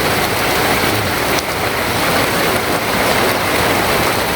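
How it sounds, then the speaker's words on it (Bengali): Heavy rain falls steadily across a village, a dense, even hiss of drops pouring down with no voices and no letup. "এই যে বৃষ্টি দেখেন অবস্থা কি চারাদিক"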